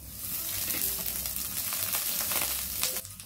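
Garlic fries in oil in a pan with a loud, continuous sizzle that holds steady and drops off abruptly near the end.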